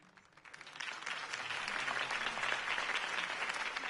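In the video game Batman: The Telltale Series, a large crowd breaks into applause after a campaign speech. The clapping starts soft, swells within the first second and then holds as a dense, steady roar without talk.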